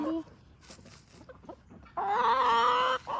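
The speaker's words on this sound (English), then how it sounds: "I guess I can actually give a little description of all the chickens, because they all have very different personalities." Backyard chickens cluck close by, first some soft scattered clucks and then a loud sustained squawking call near the end, while someone talks quietly between the sounds.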